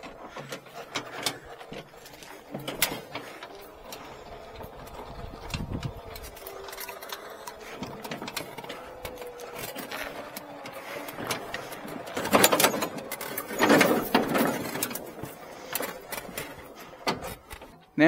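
Ratchet straps are cranked tight over a Cub Cadet electric mower on a trailer, giving rapid clicking ratchet sounds in uneven bursts alongside rattling webbing and metal clatter, close by and moderately loud.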